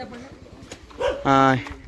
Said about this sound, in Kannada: ನಮ್ಮೂರಲ್ಲಿ ನಾಯಿಗಳು ಕಾಟ ಜಾಸ್ತಿ, ಯಾವಾಗಲೂ ಬೊಗಳ್ತಾ ಇರ್ತವೆ